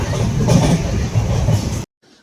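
A train rumbles loudly along the rails with a steady clattering roar, then cuts off abruptly into near silence.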